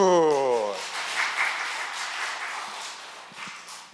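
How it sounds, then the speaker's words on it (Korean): An audience bursts into applause in a temple lecture hall during a Buddhist lecture, a broad wash of clapping that starts right after a brief voice and then slowly fades. "와, 박수."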